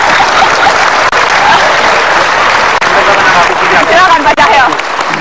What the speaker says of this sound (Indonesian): Kasih tepuk tangan dong, Hasan Nasbi.